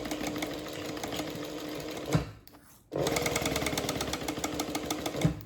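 A sewing machine runs in steady rapid bursts, stitching through a backpack pocket seam, with a brief pause midway before the close, continuous whirring resumes.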